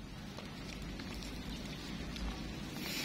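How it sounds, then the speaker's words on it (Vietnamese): Steady rain patters on a surface nearby in a forest, a continuous soft hiss with scattered drips and no voices. "Củi giờ trời mưa ướt hết rồi"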